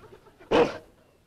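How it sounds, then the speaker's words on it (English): A trained police dog lets out a single loud, sharp bark in a sitcom scene, brief and close, with quiet room tone before and after. "I'll sick my police dog on you."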